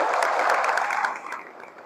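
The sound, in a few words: applause from seminar audience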